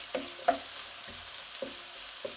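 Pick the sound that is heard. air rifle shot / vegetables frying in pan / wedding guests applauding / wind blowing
vegetables frying in pan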